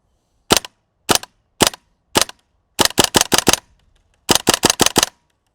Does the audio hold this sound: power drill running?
no